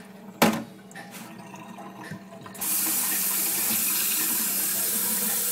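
Water pours from a tap into a vessel in a steady, loud rushing stream that starts after a sharp knock and some handling noises.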